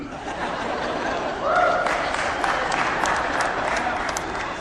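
An audience at a lecture breaks into applause mixed with chuckles and light laughter; the clapping swells briefly, then continues as a steady, moderately loud patter in the room.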